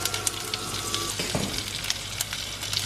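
Mustard seeds, urad dal, dried red chilli and asafoetida sizzle in hot oil as tempering for South Indian sambar, giving a steady close hiss with tiny scattered pops and a brief low clunk partway through, with no voices.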